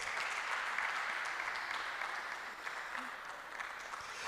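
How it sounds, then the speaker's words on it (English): An audience at a church gathering gives a steady round of applause for the speakers taking the high table, moderately quiet and even throughout with no voices on top. "Please give them a round of applause."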